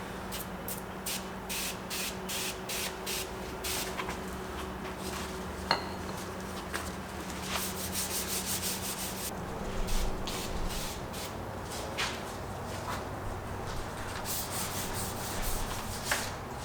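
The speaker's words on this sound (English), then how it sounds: "We'll use that to wet sand this, just to make this a little bit smoother." A foam pad wet-sands the plastic grille surround of a 2022 Toyota Tundra in a steady, faint scrubbing rhythm, with soft rubbing strokes and occasional light knocks over a constant background hum.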